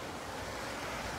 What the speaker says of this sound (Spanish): Es impresionante la cantidad de agua que está llegando al río